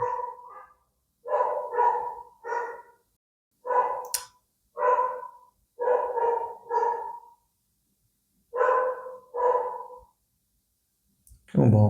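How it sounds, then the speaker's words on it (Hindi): A dog barks repeatedly nearby in loud, clipped bursts, often in pairs or triplets, separated by short silences, and a voice is briefly heard at the end. "क्यों भौंक रहे हो भाई?"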